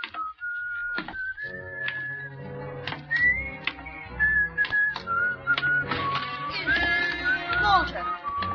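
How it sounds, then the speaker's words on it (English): A man whistles a wandering melodic tune in an old-time radio suspense drama, the clear piping notes sliding between pitches and punctuated by sharp clicks and knocks. "You still remember my whistle, eh?"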